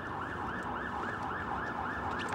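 An ambulance siren wails continuously in a steady rising-and-falling pattern, loud and close throughout, with a low road rumble underneath and no talking.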